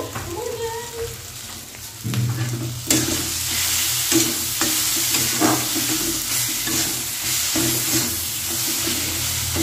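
Tomato fish curry masala with chili powder is sautéed in a pan, a loud crackling sizzle broken by repeated scraping strokes of a spoon stirring it.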